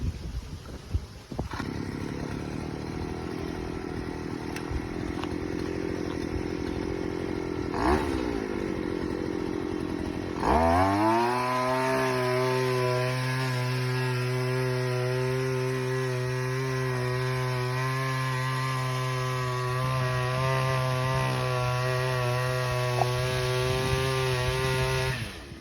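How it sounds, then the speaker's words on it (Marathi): A motorized coconut tree climbing machine starts and runs, its small engine first idling unevenly, then revving up sharply around the middle and holding a loud, steady, buzzing drone close by. "याच्यासाठी मी मशीन नारळावर चढण्यासाठी घेऊन आलेलो आहे"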